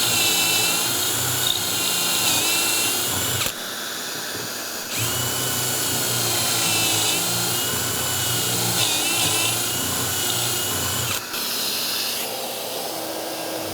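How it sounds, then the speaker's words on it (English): A drill with a stopped bit bores pocket holes through a jig into a shaker-style cabinet door, while a vacuum hose hisses steadily underneath. The drill whines in long runs with two brief pauses, close up. "has a drill bit that comes with it with a stop to make some perfect pre-drilled pocket holes."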